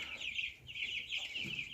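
Cobb 500 broiler chickens cluck steadily as a dense flock, a continuous chorus of close, overlapping calls with no talk.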